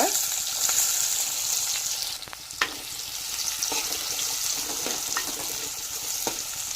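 Steady crackling sizzle of seeds and onion frying in hot oil, close and continuous, with occasional clicks and scrapes of a spoon stirring.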